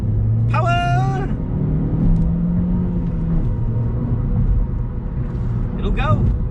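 A small 4-cylinder engine in a 2017 Chevrolet Cruze hatchback revs steadily, a loud, continuous low drone rising in pitch, heard close from inside the car on twisty roads, with brief high tonal chirps near the start and end.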